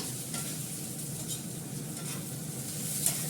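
Spices for a fish curry sizzle in a hot pan while being stir-fried, a steady close frying hiss with faint stirring scrapes and no voices.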